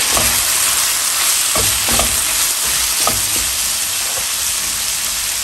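Loud, steady sizzling of chiles frying in a hot pan, with occasional soft scrapes and stirring knocks.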